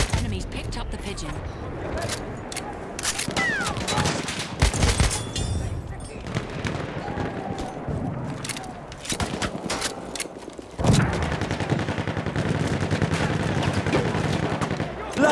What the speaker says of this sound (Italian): C'è una mitragliatrice nemica!